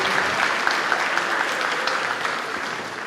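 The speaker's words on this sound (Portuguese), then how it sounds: "uma linda salva de palmas para Jesus" A church congregation claps together during an evening service, a thick, continuous wash of applause from a large crowd that stays loud and even before easing slightly near the end.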